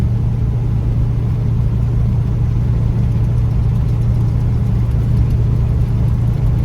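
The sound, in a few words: 429 cubic inch car driving at 39 mph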